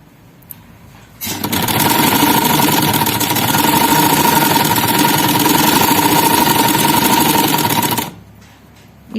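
An electric sewing machine runs in one steady, loud, whirring burst of about seven seconds as it stitches along a folded fabric edge for a high overlapping neckline, with quiet room sound before and after.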